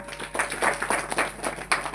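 Audience members at a kirtan clap for the pakhawaj player, a short spell of scattered, uneven hand claps at moderate loudness.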